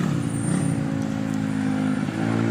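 Steady, loud engine drone of a motor tricycle carrying riders toward the sea, a constant low rumble with a continuous hum and no pauses, close and dominant throughout.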